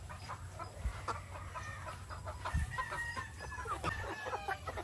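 Rhode Island hens, white ones among them, cluck in a backyard flock, with short scattered calls and soft murmurs over a steady low hum, fairly quiet and close.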